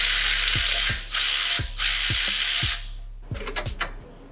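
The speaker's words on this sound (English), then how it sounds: "we're using a 19 to remove the nut on the ball joint." A 19 mm ratchet wrench turns a ball joint nut on a Lexus GX460 suspension, clicking steadily in close, loud repeated strokes with short pauses between them, then a few quieter clicks at the end.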